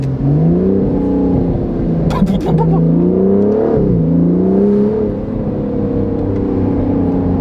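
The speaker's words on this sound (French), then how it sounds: "Ça, c'est des pops and bangs d'une V12" A powerful V12 Aston Martin DBS Superleggera Volante engine revs and drones at rising and falling pitch, loud and close, with a brief sharp crackle of pops and bangs partway through.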